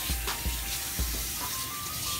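Water poured into a cooking pot for stuffed zucchini, a steady rushing splash that continues throughout, loud and close.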